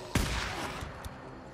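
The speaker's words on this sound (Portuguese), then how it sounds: "Eu tô ouvindo tiros" A sharp burst of gunfire in the zombie-survival video game Days Gone, one loud broadband crack followed by a fainter shot, heard alone against a quiet background.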